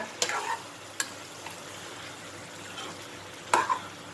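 Food sizzles steadily in a hot wok while a ladle scrapes and clinks a few times as a pork and eggplant stir-fry is stirred.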